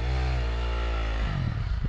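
A KTM 350 dirt bike engine roars at high revs close by, holding a steady pitch before dropping off into rougher, sputtering clatter.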